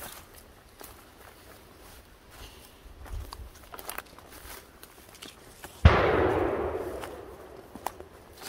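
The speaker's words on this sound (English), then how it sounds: "Oh, you're shooting." A single loud gunshot crashes out partway through during a sambar deer hunt in the Alpine National Park, Victoria, its boom rolling and decaying over a couple of seconds after quieter outdoor rustling and faint footsteps.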